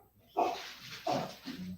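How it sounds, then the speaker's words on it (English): A dog barks three times, short and fairly faint, spaced about half a second apart in a quiet room. "What are you barking at?"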